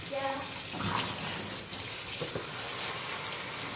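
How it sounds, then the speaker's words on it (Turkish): A tap is opened and water runs in a steady hiss and splash nearby, with faint talking and a few clatters mixed in. "Şöyle bir suyunu açayım önce de."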